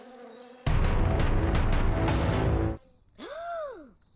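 Bees buzz in a dense, loud, close drone for about two seconds before cutting off abruptly. A voiced gasp or sigh that rises and falls in pitch follows.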